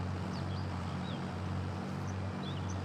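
A tractor engine in a farming video game runs at a steady, loud, low rumbling hum with no pauses, while faint bird chirps flicker above it.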